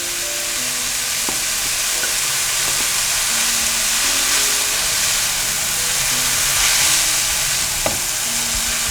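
Shredded taro stir-fries in a hot wok, a loud continuous sizzle and hiss with occasional spatula scrapes and clinks against the metal, no voices over it.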